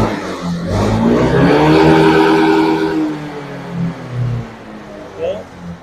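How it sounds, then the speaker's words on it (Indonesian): A vehicle engine at full throttle during a top-speed run gives a loud, rising roar that holds strong for a few seconds and then eases into a fluctuating drone. "Nanti bisa terlihat di speedometer, kita kasih gas pol aja sampai mentok."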